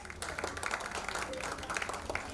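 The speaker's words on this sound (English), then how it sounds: "give them all a round of applause" Audience applauding the directors at the opening ceremony of a Caribbean junior karting trophy event, a steady patter of clapping with crowd murmur and voices mixed in throughout.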